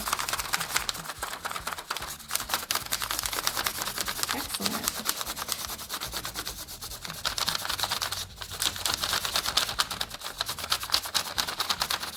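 Pencil lead rubs steadily back and forth on paper laid over tree bark, a continuous scratchy rasp throughout, with brief speech from an adult and a child over it.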